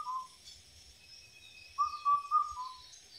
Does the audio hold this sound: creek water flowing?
no